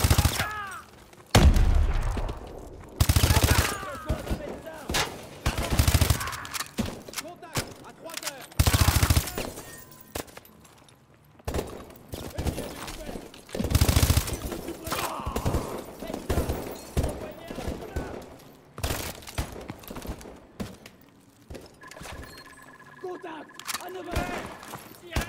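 Heavy suppressing gunfire in Call of Duty: Advanced Warfare, repeated loud automatic bursts and explosions that start and stop through the stretch, with soldiers shouting orders in French over the shooting.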